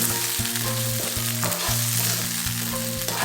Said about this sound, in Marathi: तर तोही मी त्या थोडासा फ्राय करून घेते तेलामध्ये।